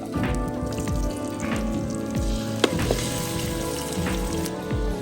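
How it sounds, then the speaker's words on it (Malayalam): Small pieces of Kadaknath chicken sizzle and spit steadily in hot spiced masala, with a continuous loud frying hiss and occasional light clinks of a spoon against the pan. "നമ്മുടെ കരിങ്കോയി ചെറുതായി പീസായി അരിഞ്ഞ് വെച്ചത് അത് ചേർത്ത് കൊടുക്കാം"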